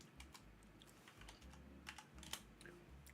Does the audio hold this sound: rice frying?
no